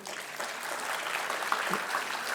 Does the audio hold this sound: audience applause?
yes